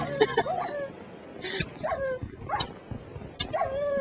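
Wolves in the Minecraft video game give several short high whines and yips spread across a few seconds, clear and fairly close, over a busy background of game noise.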